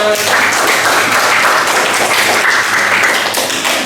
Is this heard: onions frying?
no